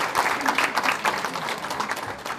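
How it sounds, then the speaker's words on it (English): Steady audience applause at a Rockaway Republican Club event, a dense wash of clapping hands throughout, fairly near and even. "give him an extra special round of applause"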